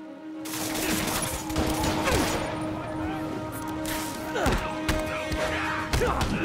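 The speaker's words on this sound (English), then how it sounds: "Somebody just shoot him!" Rapid gunfire bursts and heavy thuds ring out amid game combat in Marvel's Spider-Man Remastered, with repeated sharp volleys over a busy background of score and effects.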